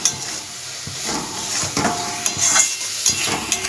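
Spice paste for jackfruit curry sautéing in a pan, a steady loud sizzle and hiss broken by repeated scraping stir strokes and clinks of a utensil against the pot, no talking.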